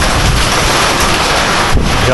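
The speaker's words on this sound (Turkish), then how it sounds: "Yağmur da başladı." Steady heavy rain pours down loudly and close by, a dense continuous hiss with gusts of wind buffeting the microphone.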